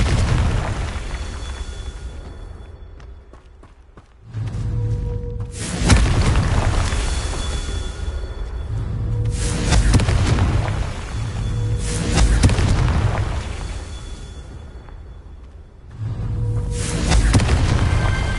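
Confringo explosion spells cast in the Hogwarts Legacy video game, a series of loud deep booms that swell and decay in long rumbling waves, separated by quieter gaps, with no speech.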